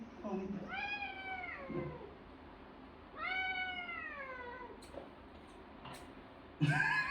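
A fat cat gives two long, drawn-out meows a couple of seconds apart, close and fairly clear, with brief soft human murmurs and small noises around them.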